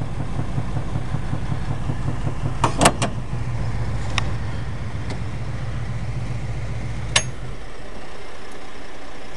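A 1974 Plymouth Satellite engine runs at a steady idle right after starting, a low even drone with a few sharp clicks and knocks over it before the engine note drops away near the end.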